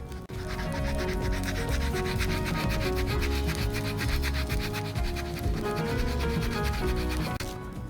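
A scuffed leather shoe is sanded by hand with sandpaper, producing close, rhythmic rasping strokes in a steady back-and-forth pattern, with no speech.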